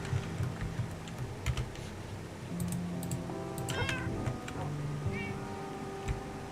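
Cats meowing in the Minecraft video game, several short mews over busy computer keyboard typing and clicking, with a faint low hum underneath.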